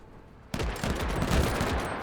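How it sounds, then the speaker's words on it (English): Rapid automatic cannon fire from enemy units in a video game erupts suddenly and stays loud and dense, a continuous barrage of booming shots with no voices over it. "they're firing like auto cannons or something"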